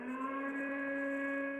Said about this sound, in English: as emergency air raid sirens wailed